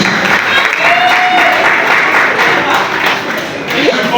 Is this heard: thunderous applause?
yes